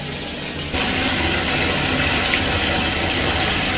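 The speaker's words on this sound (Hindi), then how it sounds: "मैं अभी इस बकेट को भी भर देता हूँ ताकि कोई भी आगे नहाए तो उसको ठंडा पानी मिले।" Water from a tap gushes into a bucket, starting abruptly after a short quiet moment and then pouring steadily and loudly, close by, with no talking.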